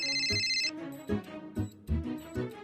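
A telephone rings with an incoming call, a short burst of bright electronic tones at the start followed by several dull thumps and room noise.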